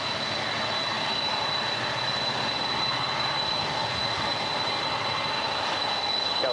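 An airliner, American 137 Heavy, landing on runway 25 left at LAX: a steady broadband engine roar holds at an even, loud level throughout, with a thin whine running over it.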